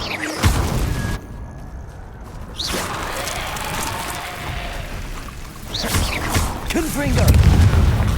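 Deep booming blasts of the Bombarda spell in Hogwarts Legacy, a heavy hit near the start and another rumbling one toward the end, with crackling battle noise and whooshes between them.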